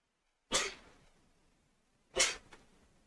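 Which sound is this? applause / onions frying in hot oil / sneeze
sneeze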